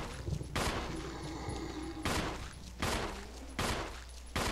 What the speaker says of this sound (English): I prefer to shoot them from the bottom of the stairs here.